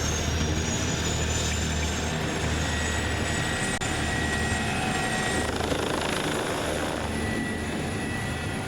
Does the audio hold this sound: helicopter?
yes